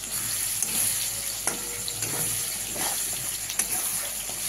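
Chilli powder, turmeric and salt being slowly fried and stirred in a pan for a prawn and gati kochu dish, giving a steady wet hiss with faint scraping clicks throughout, no voices.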